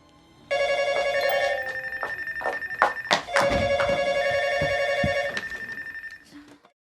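A telephone rings in a scene from the film Secret Sunshine (Milyang), a sustained electronic tone starting abruptly and continuing for several seconds, broken by a few thumps, before cutting off.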